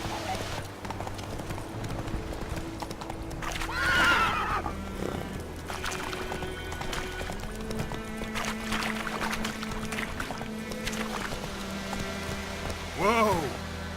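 Roach the horse in The Witcher 3 lets out a loud whinny over steady galloping hoofbeats, with another neigh near the end, all set against game music and ambience while someone speaks.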